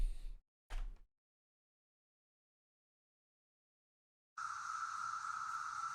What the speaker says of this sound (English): There must be a million cicadas living in our trees.